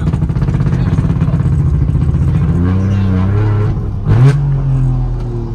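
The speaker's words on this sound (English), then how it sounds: "this one has a little unique sound. I've got dual exhaust with a pair of cherry bombs on the back" A modified 1961 Saab 96 with dual exhaust and a pair of cherry bomb mufflers revs loudly up close, a steady burbling drone that climbs and sweeps through pitch changes, with a brief sharper blip near the end.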